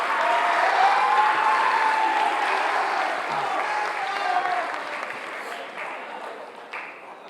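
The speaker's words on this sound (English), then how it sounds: "Give yourselves a round of applause." An audience at a school spring sports awards night claps steadily, a dense wash of applause that slowly fades over several seconds.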